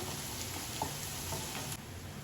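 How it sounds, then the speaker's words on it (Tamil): Shallots fry in hot coconut oil, giving a soft, steady sizzle and hiss that stays constant and close, with no voices over it. "வெங்காயம் பாருங்கள் சூப்பராக நல்லா பொன்னிறமாக வதங்கிடுச்சு"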